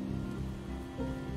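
Steady rain falls in the survival game Project Zomboid, a dense even hiss of drops on surfaces running continuously with no talk over it.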